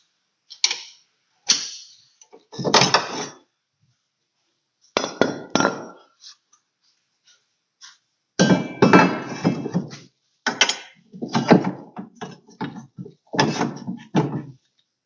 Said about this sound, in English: I'm gonna go ahead and throw the hitch hoist in, or the riser for the hitch hoist, and let's see how it fits